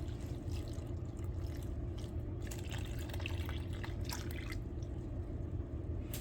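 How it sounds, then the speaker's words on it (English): Liquid active yeast trickles and drips in a soft, uneven stream into flour over a steady low background hum, with no voices. "I'm going to pour that active yeast in the center"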